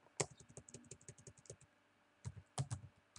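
Fast, close keystrokes on a computer keyboard while writing an SQL query: a rapid rhythmic run of clicks, a short pause, then a few more sharp taps.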